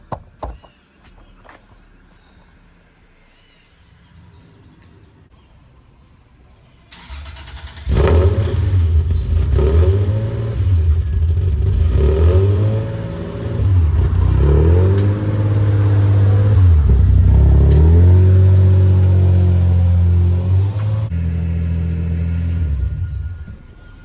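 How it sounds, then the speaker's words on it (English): Lexus SC300 with custom exhaust starting cold: quiet clicks at first, then the engine catches and settles into a loud throaty idle with several rising and falling revs, close and sustained, no talk. "So let's go get this cold start now"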